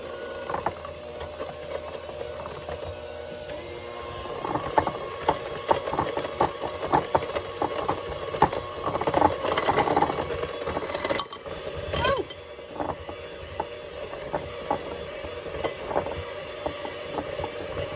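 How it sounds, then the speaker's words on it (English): A new electric kitchen mixer with beaters runs steadily in a home kitchen while making a caramel dip, giving a continuous close mechanical whir with rattly fluctuations and a brief louder surge midway. "My new mixer, one of the beaters, it just doesn't like to stay in there."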